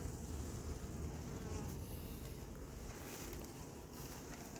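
A bee buzzes continuously close by at an apiary, a steady low drone over light wind rumble, with no voices.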